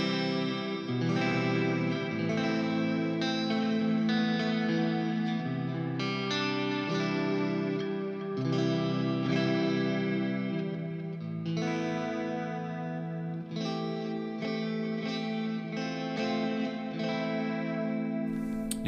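A Strandberg Salen electric guitar plays sustained chords and notes drenched in effects, with lingering reverb tails carrying each phrase; no talking.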